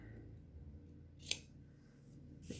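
Good craft scissors snip through cardstock paper, one sharp cut standing out clearly in a quiet room, followed by a second fainter snip near the end.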